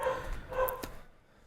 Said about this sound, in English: And that's my dog this time.